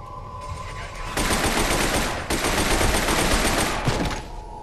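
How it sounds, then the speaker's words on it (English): Submachine gun fire in the F.E.A.R. shooter game, two loud sustained bursts of rapid automatic shots at close range separated by a short pause, with no talk over it. "It's a submachine gun that I've been carrying."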